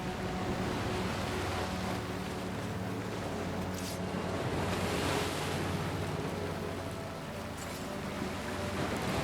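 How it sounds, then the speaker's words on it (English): Ocean waves in the video game Banishers roll and wash continuously in a dense, steady surf hiss, mixed with sustained low musical tones and a faint windy texture throughout. "I like the combination of the music with ocean sounds."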